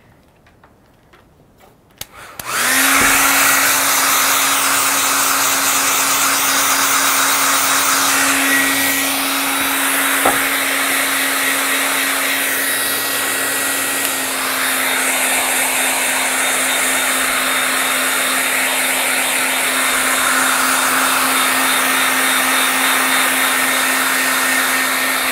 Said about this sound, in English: I'm going to go ahead and blow dry my painting.